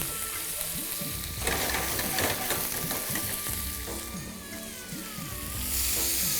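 Dhaba-style achari paneer gravy sizzling in a pan, a steady loud frying hiss with repeated stirring scrapes and clinks throughout.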